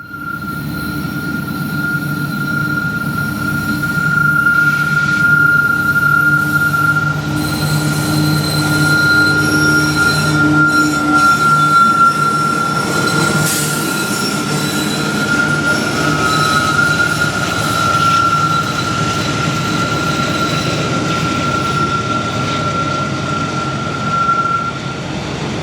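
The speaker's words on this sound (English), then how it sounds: "M267 comes back north with the single unit giving it all it has to get out of town" A single CSX freight locomotive on train M267 working hard to accelerate out of town, a loud, steady diesel roar with a sustained high squealing tone, heard close up for the whole stretch with no talk.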